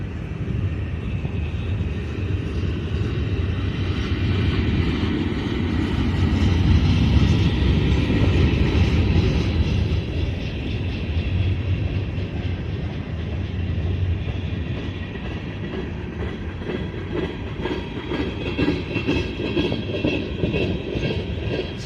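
A Norfolk Southern freight train rumbles past on a stormy, rainy day, a loud sustained roll of cars with faint rhythmic wheel clatter and no talk.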